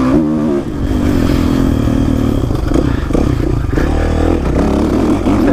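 A 2016 Kawasaki 450 KXF motocross bike revving hard on a track, its loud throaty four-stroke engine rising and falling close by with clattering mechanical noise.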